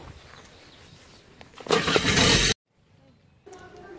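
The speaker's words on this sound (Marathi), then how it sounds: "आता रिक्षाने जातो" Auto rickshaw engine on a ride through heavy rain: a low rumble under voices swells into a loud, roaring burst, cuts off abruptly, then faint road noise returns.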